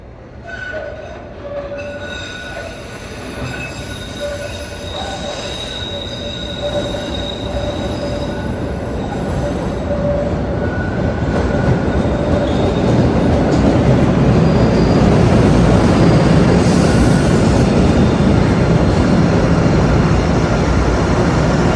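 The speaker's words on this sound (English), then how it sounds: "Yes, that's the train." A Blue Line subway train bound for Wonderland rolls into a station platform, growing steadily louder with a rising rumble, metallic wheel squeals and high brake tones ringing out as it pulls in.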